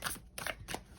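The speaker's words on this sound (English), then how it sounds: "we're going to shuffle some more cards" Tarot cards are shuffled in short bursts, three quick papery riffles close up and quiet, with no talking.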